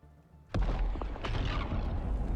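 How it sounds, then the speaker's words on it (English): Sudden loud boom from an explosion in the survival game Dune Awakening, breaking in abruptly over quiet ambience and leaving a sustained rumbling roar with a few sharper crackles afterward. "Whoa, big explosion."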